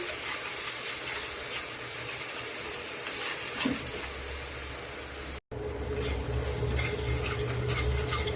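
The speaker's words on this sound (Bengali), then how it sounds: "এখন মশলাটা আমি ভালো করে কষিয়ে নেব।" Soaked ground spices frying in a pan for Bengali tilapia fish curry, a loud continuous hissing sizzle with steady stirring, broken by a brief silent gap before carrying on.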